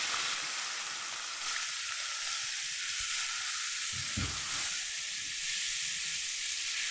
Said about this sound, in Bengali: তেলেতেই আমি পেঁয়াজ দিয়ে নেবো